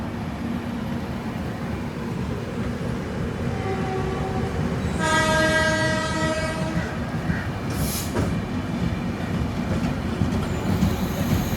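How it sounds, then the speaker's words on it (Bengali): Howrah–Ranchi Shatabdi Express overtaking on an adjacent track, heard from aboard another train: steady rolling rumble with a rising multi-tone horn sounding for a couple of seconds midway, then continued wheel noise. "দেখুন ওভারটেক করে বেরিয়ে যাচ্ছে হাওড়া রাঁচি শতাব্দী এক্সপ্রেস।"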